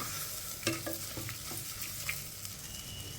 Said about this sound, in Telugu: ఇప్పుడు ఈ టమాటో ముక్కల్ని లైట్గా ఫ్రై అవ్వనివ్వాలి.